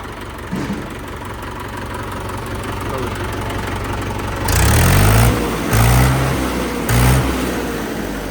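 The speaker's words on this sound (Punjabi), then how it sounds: "ਆਵਾਜ਼ ਸੁਣੋ ਬਾਈ ਟਰੈਕਟਰ ਦੀ" A Mahindra 575 tractor engine idles with a steady diesel chug, then is revved three times in short bursts, loud and close.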